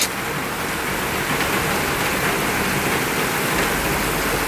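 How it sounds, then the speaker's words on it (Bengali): Heavy rain pours down steadily in a waterlogged residential lane, a dense, loud, unbroken hiss of water hitting the ground and rooftops. No voices are heard. "সমানে বৃষ্টি পড়ে যাচ্ছে"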